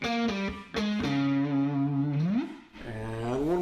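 Distorted electric guitar with an effects unit plays sustained, ringing notes with a slide in pitch near the end, loud and continuous, no voices over it.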